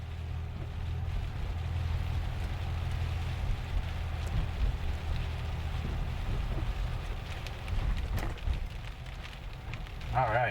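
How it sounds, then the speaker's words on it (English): Steady rain drumming on a car driving through a storm in the hills of southeastern San Diego, a continuous wash of hiss over low road rumble for the whole stretch, with a few louder patches and no talk. "Yep, we got some good rain coming now."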